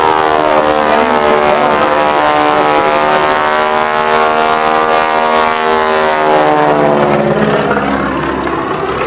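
Biplane engine at the 2017 Riverside Air Show, a loud sustained droning roar with shifting pitch as the aircraft performs aerobatics, rising then falling away near the end.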